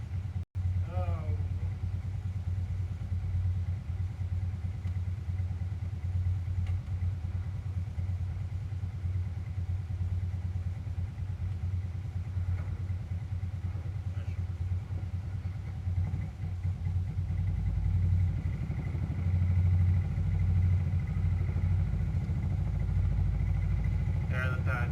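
A 1992 Suzuki Quadrunner 300 ATV engine idles on full choke, a steady low rumbling drone that runs throughout and grows slightly louder near the end, with someone talking over it.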